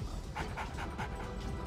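A dog pants in steady, rhythmic breaths, about six quick huffs in under two seconds, close to the microphone over a low background hum.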